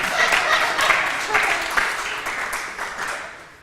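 Applause from a breakfast audience at a community talk, a steady wash of many hands clapping at moderate volume that slowly fades over a few seconds.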